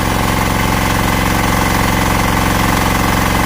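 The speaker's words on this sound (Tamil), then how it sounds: "அடுத்தது செல்ஃப் ஸ்டார்ட்டை வச்சு அழுத்தினாருன்னா ஸ்டார்ட் ஆகிடும்" A 12HP diesel four-wheel power weeder engine running close by, loud and steady, with a continuous rapid knocking chug that holds throughout.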